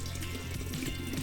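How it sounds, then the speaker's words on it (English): Water pours steadily from a container onto cut lemons for homemade lemonade, a close, continuous liquid fill with a gurgling trickle and no voices. "So we're gonna add our water to the lemons"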